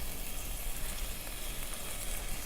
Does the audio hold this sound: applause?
no